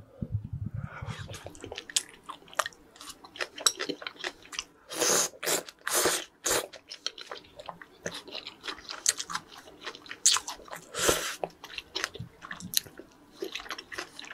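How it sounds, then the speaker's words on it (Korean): Close-up eating of fried seaweed rolls (gimmari) with spicy tteokbokki: crisp crunchy bites followed by moist chewing and squishing, loud and intimate, with no talk. "김말이 되게 오랜만에 먹는다."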